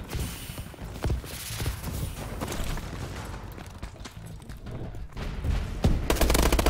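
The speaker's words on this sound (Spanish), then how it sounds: "Son tiros de fuera." Gunfire in a competitive shooter video game match sounds as scattered, fairly distant bursts of shots and sharp cracks over a busy game background, growing louder toward the end.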